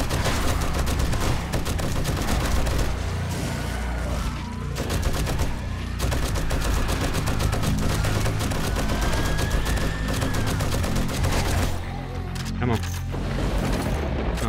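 A heavy gun fires in rapid bursts in the survival video game 7 Days to Die, dense and loud throughout, with someone talking over the gunfire.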